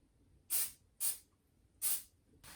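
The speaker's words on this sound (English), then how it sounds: "everything you use now in terms of utensils to be sprayed with a little bit of grease" Grease is sprayed from a can onto baking utensils in three short, sharp hissing bursts, close and clear, with a fourth beginning at the very end.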